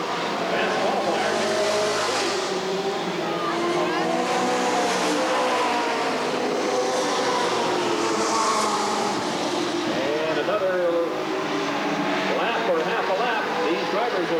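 Race car engines roar continuously around a 1989 short oval raceway at Redwood Acres, a dense, loud whine of several cars passing with occasional tire squeal, under steady announcer commentary.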